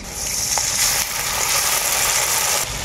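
Chopped onion and green chili sizzle steadily in a hot pan while being stirred for an okra dish, a continuous bright hiss with faint scraping and no talk.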